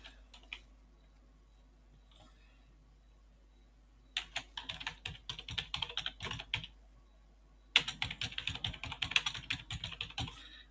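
Computer keyboard typing in bursts of rapid clicks, alone with no voices, close and fairly quiet, with two sustained runs of keystrokes separated by a lull.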